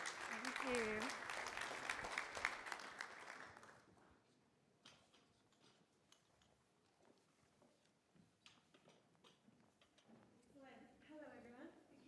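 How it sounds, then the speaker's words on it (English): Audience applause rises at a live CEO conference in Sydney, a dense wash of many hands clapping for about four seconds under a voice, then fading to scattered claps, light footsteps and quiet murmuring. "can everyone please give a big round of applause for Claire to come up on stage."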